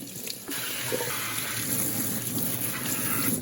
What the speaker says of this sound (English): you are going to want to wash your basil